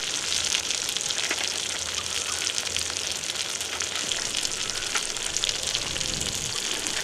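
Onions and tomatoes fry in a pan with a dense, constant crackling sizzle, close and steady throughout, with no voices.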